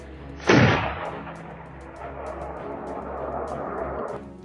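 A single loud rifle shot fired while hunting wild boars in dense underbrush, a sharp blast followed by a long rumbling echo that fades over several seconds.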